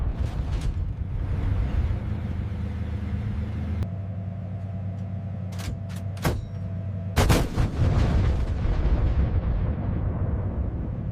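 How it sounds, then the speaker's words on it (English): A T-90M tank's 2A46M5 main gun firing a high-explosive round: a sharp, loud blast around the seven-second mark with a rumbling tail, set among engine rumble and several earlier booming reports. "The T-90M's 2A46mm5 main gun is capable of a variety of rounds with lethal precision."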